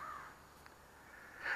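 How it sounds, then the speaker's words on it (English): Crows caw outdoors on a morning, two faint, rough calls at the start and end separated by quiet background noise, distant and soft. "Crows are a bit noisy today."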